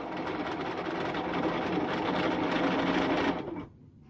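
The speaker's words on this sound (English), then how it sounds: "So all set to sew here." A sewing machine runs steadily along a T-shirt seam, a fast, even stitching whir that holds for about three seconds, then stops and leaves near silence.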